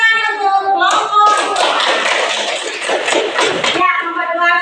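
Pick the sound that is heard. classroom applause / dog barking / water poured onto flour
classroom applause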